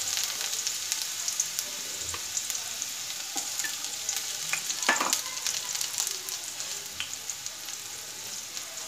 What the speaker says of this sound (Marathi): आता हा कांदा चांगला आपल्याला यामध्ये छान परतून घ्यायचा आहे